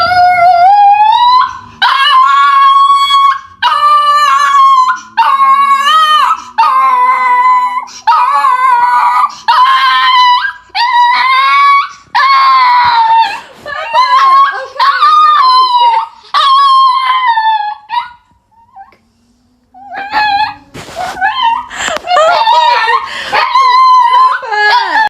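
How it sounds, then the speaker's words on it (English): A pet house dog howls, whimpers and yips close by in long, rising and falling wails, pausing briefly before resuming with sharp barks. "You a house dog."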